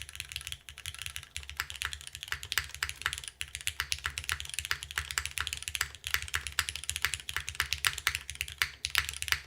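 Rapid typing on a TOFU TKL gasket-mount mechanical keyboard with MX2A switches, a close, crisp stream of clacky keystrokes with a soft thocky undertone and occasional heavier presses, steady and unbroken.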